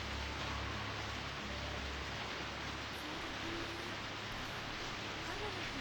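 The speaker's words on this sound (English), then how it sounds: "It was a rainy evening after school, just like this one." Steady rain falls in the horror game Corpse Party, a constant soft hiss of rainfall with faint low rumbling underneath, continuing evenly throughout.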